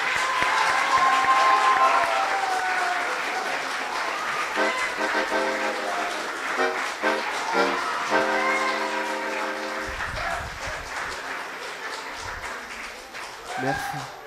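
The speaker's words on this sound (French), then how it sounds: "Alors, laissons venir la joie, applaudissons." A Protestant congregation applauds during a worship service, a burst of clapping that is loudest at the start and then thins under voices and sustained musical tones.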